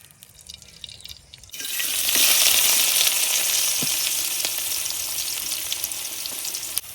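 Oil sizzling hard in a pan for a village-style home-cooked dish, a quiet start then a sudden loud, steady hiss that fades slightly with a few drips and stirring sounds, no talking.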